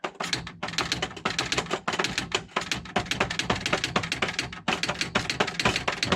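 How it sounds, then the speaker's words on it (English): Rapid, heavy keystrokes pounded on a typewriter, a dense, steady run of sharp clacks with only brief pauses, close and fairly loud throughout. "I pound this like I'm typing on a manual typewriter"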